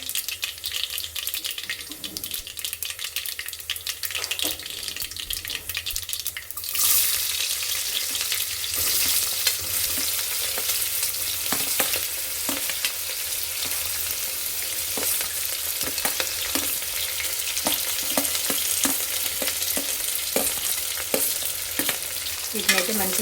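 Onions and green chillies sizzle steadily in hot oil with browned garlic for ridge gourd dal, a spoon stirring and scraping through the pan in frequent strokes; the frying is loud and close, with no talking.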